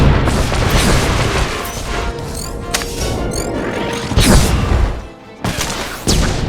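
Grenade explosions and blaster combat in the Star Wars: The Old Republic video game, loud repeated booms and crashes mixed with zapping weapon fire and whooshing effects throughout.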